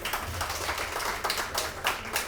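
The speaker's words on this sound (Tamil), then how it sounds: "சூப்பர், கைதட்டுங்க." Audience clapping at a book release function with music, a dense patter of many hands sounding moderately loud and steady throughout, with no talking.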